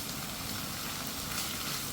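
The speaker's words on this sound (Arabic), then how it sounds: "يتقلى مع هاد البصله" Chicken pieces frying with onion in a pan, giving a steady, dense sizzle that holds evenly throughout without any talk.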